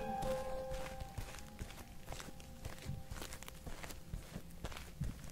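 Steady footsteps walking at an even pace along railway tracks at night, moderately close, over a faint background hum with a few thin tonal whines of crickets.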